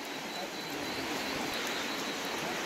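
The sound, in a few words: heavy rain falling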